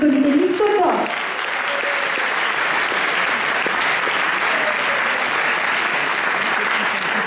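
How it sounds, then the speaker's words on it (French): At the Miss Côte d'Or 2024 pageant, the audience applauds the volunteers: loud, dense clapping from a large crowd swells in after a brief musical or vocal bit at the start and continues steadily to the end. "on les applaudit très fort, tous les bénévoles du comité Miss Cotton"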